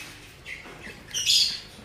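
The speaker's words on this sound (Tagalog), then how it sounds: "Napakagandang ibon." Young Lutino Opaline birds in an aviary nestbox give a few soft chirps and then a sharper, louder squawk, heard close over a quiet background.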